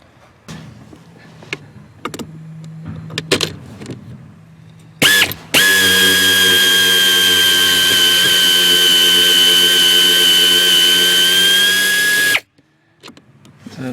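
Power tool, likely an impact wrench or drill, spinning long locking nuts off studs on a 2016 Ford F-350, a sustained loud whirring run lasting about seven seconds after brief tool clicks and handling noises, then stopping abruptly.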